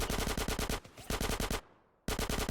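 Rapid automatic gunfire from Grand Theft Auto: The Trilogy, heard as loud bursts of evenly spaced shots broken by brief pauses and a decaying tail before firing resumes.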